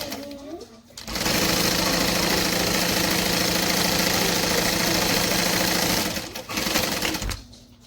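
A sewing machine stitches vinyl at a long stitch length, starting after a short pause and running loud and steady for several seconds before stopping briefly, then a short final burst.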